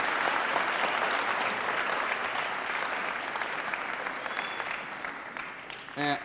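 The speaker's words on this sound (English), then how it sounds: "Can we give them all a round of applause, please?" At a school Veterans Day event, an audience gives the program's students a steady round of applause, dense clapping at moderate distance that gradually tapers off, with a brief voice breaking in at the very end.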